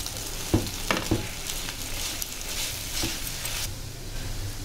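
Egg noodles tossed with masala in a hot frying pan, a steady sizzle with occasional sharp scrapes and clinks of the stirring utensil against the pan, close and alone without speech.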